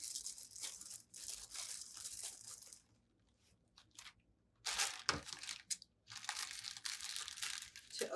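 A plastic bag being cut open and spread flat, heard as close crinkling and rustling bursts split by a quiet pause, then more crumpling handling.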